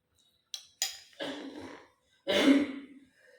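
A person coughs and clears their throat in a few short, harsh bursts separated by pauses, close to the microphone.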